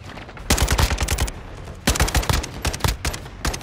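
Rapid bursts of automatic gunfire from a Call of Duty multiplayer match, loud and close, in three volleys of quick rattling shots broken by short pauses, with no voices.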